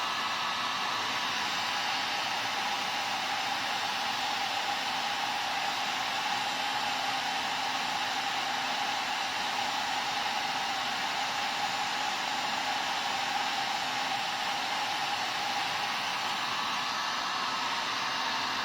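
A hot air tool heats the back of a salvaged TV circuit board to loosen its components. It gives a steady, continuous blowing hiss with no breaks for the whole stretch.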